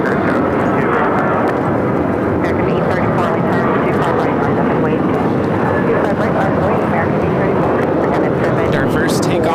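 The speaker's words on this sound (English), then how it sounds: "Our first takeoff of the stream is Air Canada 784 taking off to Toronto on the A321" An Air Canada A321 airliner takes off for Toronto, a dense, steady jet engine roar filling the whole stretch at constant loudness, with talk underneath.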